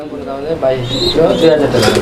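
Pairs of pigeons, some with chicks, at a pigeon sale coo softly and repeatedly close by, under steady talk from people nearby.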